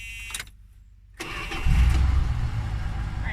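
Car in park cranks briefly, falls quiet, then catches and fires up into a rough, rumbling idle that stays fairly loud and close.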